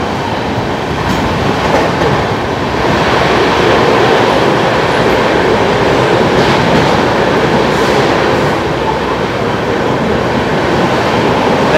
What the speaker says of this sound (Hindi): यहाँ पर आई है नवजीवन एक्सप्रेस